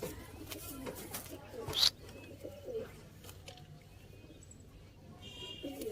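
Teddy pigeons for sale in Sialkot coo softly in low, intermittent calls, with a sharp brief knock partway through and faint ambient noise around them.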